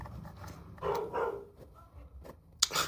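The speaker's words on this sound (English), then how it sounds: "If you can hear a dog barking, apologies." A dog gives a few short, faint barks somewhere in the distance, spaced apart over a quiet indoor background.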